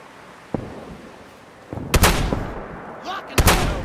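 Gunfire in the video game Fallout 4: a lone shot, then a loud close burst of several rapid shots, a pause, and another sharp report, with faint game sounds between.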